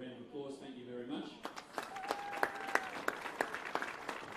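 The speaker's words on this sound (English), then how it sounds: "So to Graham, a round of applause, thank you very much." Steady clapping from an audience builds up and continues, with a few sharper claps standing out, after a brief stretch of speech at the start.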